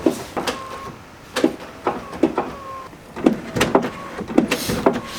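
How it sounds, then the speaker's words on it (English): Repeated mechanical whirring bursts with clicks from a Porsche 911 Turbo power window motor with a suspected wiring fault, starting and stopping several times in short, uneven pulses. "So like the door lock starts doing something, the window starts moving."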